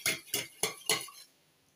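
A utensil mixes hair pomade ingredients and essential oils in a container, making four quick, evenly spaced clinking scrapes close by before fading to quiet.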